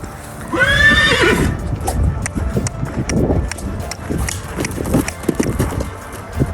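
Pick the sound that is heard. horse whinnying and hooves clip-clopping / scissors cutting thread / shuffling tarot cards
horse whinnying and hooves clip-clopping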